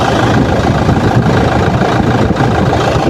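A Toyota Fortuner diesel engine with a freshly fitted timing belt runs steadily at idle, a close, continuous low rumble that holds even and unbroken from start to finish.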